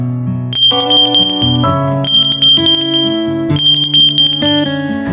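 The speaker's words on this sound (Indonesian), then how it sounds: "Bel istirahat berbunyi." A school break bell rings in loud, repeated bursts of bright metallic tones, three rapid peals in quick succession with no talk over it.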